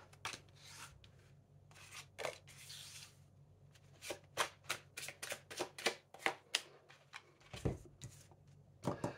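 Tarot cards are shuffled by hand in repeated quick riffling bursts, close and quiet, with a faint hum underneath and no talking.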